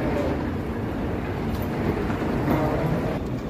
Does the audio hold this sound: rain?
no